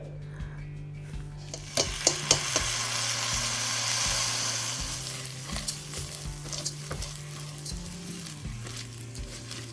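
Rice grains fry with spices, sizzling and crackling in a hot pan while a utensil scrapes and stirs, with repeated knocks against the pan and a low hum underneath.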